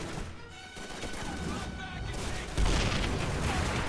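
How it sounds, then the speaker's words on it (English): Mortar fire and explosive impacts in the war shooter Call of Duty 3, a dense burst of blasts and gunfire with a heavy boom near the end, loud and close. "Mortar, ahoy! Let's see where that lands."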